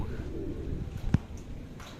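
Soft cooing of pigeons over a steady low outdoor rumble, with one brief louder note standing out near the middle.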